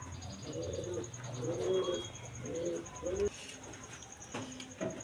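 Soft coos from a female Nun pigeon repeat in low, rounded bursts, with faint chirps and a steady high whine in the background.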